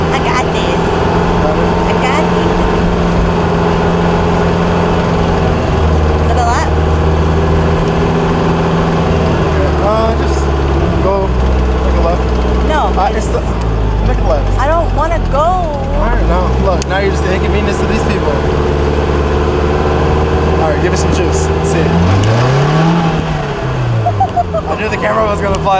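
A car engine pulls through a lap at steady road speed, the drone rising and falling with the throttle, while voices talk over it throughout.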